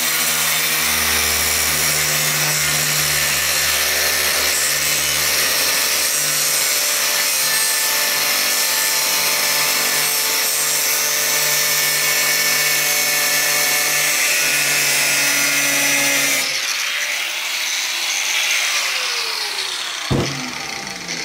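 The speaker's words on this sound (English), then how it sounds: "we've got the 5-inch grinder set up over here, just with a 1mm thin disc, and we're just going to come over and cut this sheet out" A 5-inch angle grinder with a 1mm thin disc cutting an aluminium sheet for a boat build, loud continuous high screaming whine held close for about sixteen seconds, then the motor winds down.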